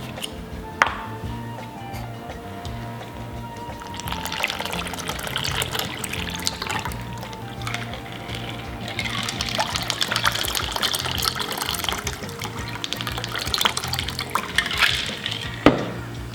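A shaken watermelon cosmo cocktail is poured from a shaker into chilled glasses, giving a close, steady liquid trickle and splash with faint clinks and drips over a low background hum.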